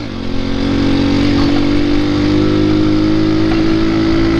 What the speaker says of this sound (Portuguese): ele tá acelerando, mano.